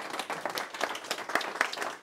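Café audience applause at a bucket-list themed event, a dense patter of many hands clapping for about two seconds, fairly close and steady, with no speech over it.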